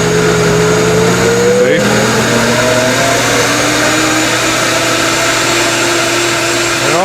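A Cosori Pro blender making hot soup runs continuously at high speed, a loud steady motor whine that slowly rises in pitch as it speeds up.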